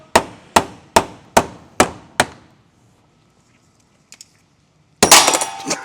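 A hammer strikes a Subaru STI transmission six times in a steady rhythm of sharp, ringing metallic blows. A couple of faint clicks follow a pause, then a sudden loud burst of clattering noise.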